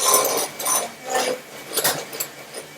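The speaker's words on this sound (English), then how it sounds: "I'm going to use my little hand mixer just to mix this up with." A small electric hand mixer whirs in uneven bursts, its beaters rattling and grinding against a bowl, close by with no talking.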